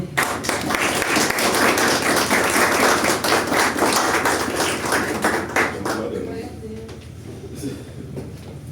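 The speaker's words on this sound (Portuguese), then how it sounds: "Aplauda ao Senhor." Church congregation at a Sunday service applauding, many hands clapping loudly for several seconds before thinning out, with voices audible as the clapping fades.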